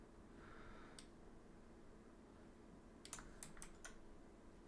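Keys clacking on a computer keyboard in a quiet room, first a single tap, then a quick burst of five or six keystrokes near the end, faint over a steady background hiss.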